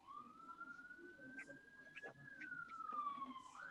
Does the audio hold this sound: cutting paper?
no